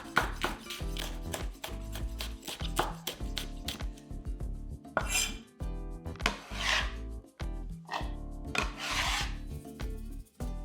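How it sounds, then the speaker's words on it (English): Knife slicing a red pepper into thin strips about a quarter inch thick on a wooden cutting board, a steady run of close, crisp cuts and rubbing strokes with brief pauses. "I'm going to slice the red pepper into thin strips."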